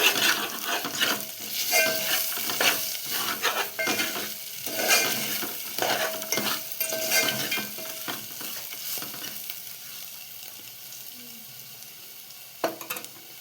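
Turmeric being stirred into tomato rasam in a cooking pot, with a steady sizzle and soft scraping strokes throughout; the sound thins out toward the end, when a faint clink is heard.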